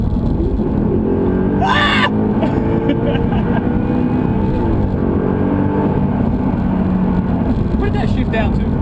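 An Audi R8 V8 on the road, engine pulling hard from low speed at full throttle, a loud continuous roar with a gear shift partway through, under someone talking in the cabin.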